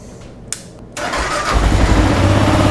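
A Kawasaki KLR650 dual-sport motorcycle is cranked and fires up nearby: a quiet lead-in with a couple of clicks, then the starter engages and the single-cylinder engine catches and settles into a steady, throbbing idle.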